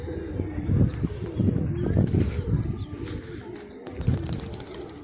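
Pigeons, a pair of hens and a cock with green wings, flap into flight near a home loft, with soft cooing and wingbeats over a low, steady rumble, the flutter rising in bursts close by.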